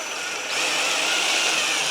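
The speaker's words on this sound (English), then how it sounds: "And then just sink that pocket hole screw right in there." A power drill drives a pocket hole screw into wood while building a small end table, its motor whirring up into a steady, close, grinding hum that holds for the rest of the moment.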